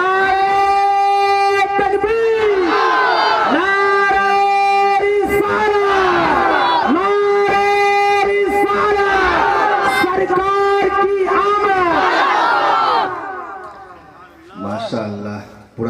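A large crowd at a religious gathering chants the Ya Rasool Allah slogan in loud, repeated rhythmic call-and-response waves for about thirteen seconds, then fades into scattered voices.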